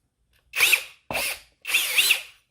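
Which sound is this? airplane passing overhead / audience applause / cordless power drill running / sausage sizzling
cordless power drill running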